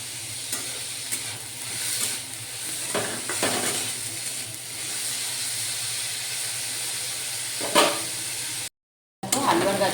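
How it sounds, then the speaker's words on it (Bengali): Diced potatoes and carrots sizzling steadily in a hot pan for poha, with intermittent scraping stirs of a spatula close by and a brief dropout near the end. "আলু আর গাজরটা ভাজা ভাজা হয়ে গেছে।"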